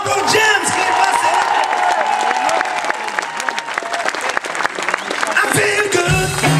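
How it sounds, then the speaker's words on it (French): A live concert crowd bursts into loud applause with cheers and whoops in tribute to James, a busy, roaring mass of clapping and shouting that carries on without a break. "Un tonnerre d'applaudissements pour James qui est passé."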